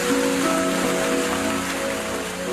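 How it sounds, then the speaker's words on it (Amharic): Rain falling steadily as a dense, even hiss of drops on surfaces, loud and continuous throughout with no voices. "ወይ ዝናብ መጣ"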